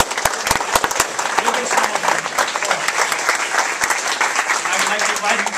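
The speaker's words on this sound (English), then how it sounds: "So join me in a round of applause" A graduation audience breaks into a loud, sustained round of applause with dense, overlapping claps filling the hall, and a brief spoken word heard at the start.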